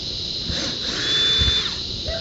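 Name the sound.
drill removing screws from RV bathroom fan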